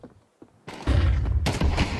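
Scout sniper rifle fire in Counter-Strike during an ESL Pro League match, a few quiet thumps giving way to loud, dense bursts of gunfire that fill the rest of the moment without voices.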